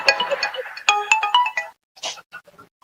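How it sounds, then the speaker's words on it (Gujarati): A mobile phone ringtone plays a bright, close melodic tune with rising notes. It pauses briefly, then a few quieter chirps follow near the end. "સાલું ફોન આવે તાર દાદા ને કોક નો."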